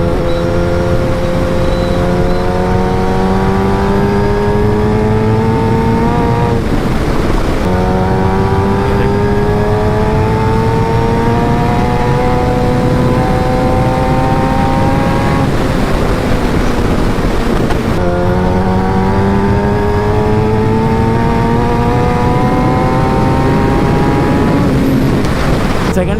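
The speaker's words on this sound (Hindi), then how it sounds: "अगर इसको मैं एक नॉर्मल बिल्कुल लो या नॉर्मल RPM से 6th गियर से भी पिक करूँगा ना, तो इसमें आराम से उड़ जाना है" Motorcycle pulling from low RPM in sixth gear, the engine note climbing steadily in three long rising sweeps, loud and close over constant wind roar.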